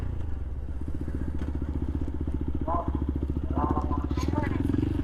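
Motorcycle exhaust burbling steadily at close range, a rapid even pulse with brief revving swells, while people talk over it; recorded near Viralimalai Murugan temple.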